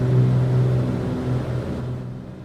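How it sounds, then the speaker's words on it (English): A Black Square B60 Grand Duke aircraft engine drones in Microsoft Flight Simulator on a New Guinea flight, a loud, steady low hum with tonal layers that eases slightly toward the end. "I'll turn the frickin' engine sounds down."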